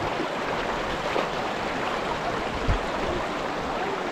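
Rushing water of the Çat creek in Dersim, a steady, loud broadband wash that carries on without a break, with no voices over it.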